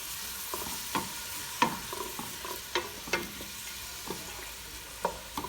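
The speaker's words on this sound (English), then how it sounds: "Saute these onions nice." Onions sautéing in a pan, a steady soft sizzle broken by repeated scraping stir strokes, close and moderately loud, with no talk.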